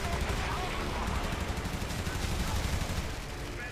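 Rear gunners of enemy bombers fire in IL-2 Sturmovik, a loud, dense, continuous rattle of machine-gun fire alongside engine roar, with a voice talking over it.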